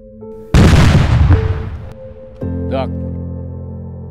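Loud explosion blast during military training, a single sharp boom followed by a long decaying rumble, then a mechanical tone and talk in the background.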